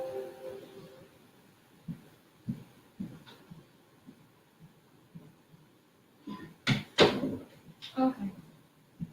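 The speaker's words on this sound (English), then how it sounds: "just go close the door" An indoor door is pushed shut with a cluster of sharp knocks and thuds near the end, after quieter shuffling and a voice early on.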